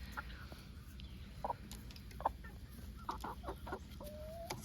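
Gray, bluish-feathered chickens cluck softly and intermittently in a quiet farmyard, with a few short, scattered calls over low background hum.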